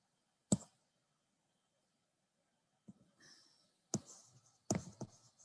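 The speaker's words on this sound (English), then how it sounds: "I'll write it down." A lecturer writes on a board in a lecture hall, a few sharp isolated taps followed by short scratchy strokes, faint and sparse with long quiet gaps.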